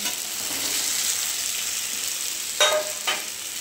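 Paneer fries with potatoes and spices in a pan for posto paneer, giving a steady, close hiss of sizzling oil. Two quick stirring scrapes cut in near the end.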